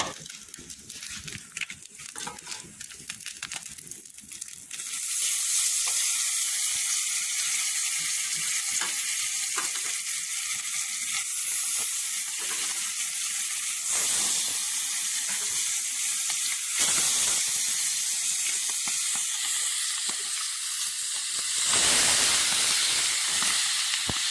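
Fish and onions frying in a pan on a stovetop, a loud steady sizzle and hiss that swells after an initial quieter stretch of clatter, continuing with a few stirring noises.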